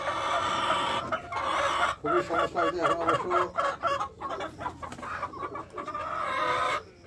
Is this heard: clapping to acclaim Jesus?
no